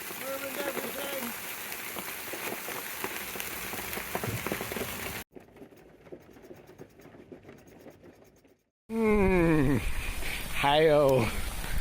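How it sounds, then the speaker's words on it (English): Hail falling on a narrowboat: a dense, steady rattle and patter on the boat for several seconds, then a quieter stretch and a brief gap, followed by loud talking up close. "Ah, it's hail!"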